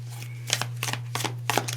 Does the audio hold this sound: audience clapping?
no